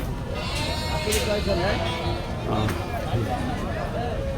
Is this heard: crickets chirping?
no